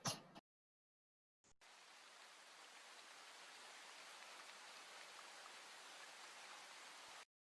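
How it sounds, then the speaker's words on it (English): Steady rain hisses evenly after a brief silence, a dense and constant patter with no clear individual drops. "Raining."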